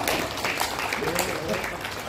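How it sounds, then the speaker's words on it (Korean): Listeners at a pastoral ministry lecture clap together in a brief, loud, continuous burst lasting about two seconds, with a faint murmur underneath. "박수 한번 쳐주세요."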